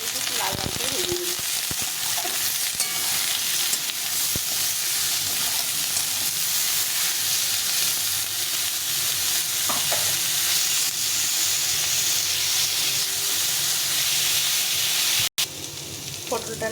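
Potato and pointed gourd fry with salt and turmeric in a pan, a steady broad sizzle running throughout with occasional stirring scrapes and clinks, close and fairly loud, no talking.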